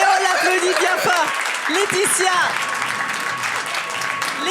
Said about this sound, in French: Et on l'applaudit bien fort.